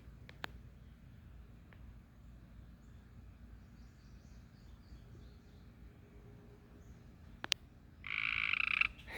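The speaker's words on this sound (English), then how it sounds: "I was waiting for that frog, sorry." A frog croaks from a small pond in a food forest garden. After a long stretch of quiet outdoor ambience, a short, loud burst of croaking comes close by right at the end.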